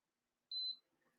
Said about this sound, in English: Last beep of the day.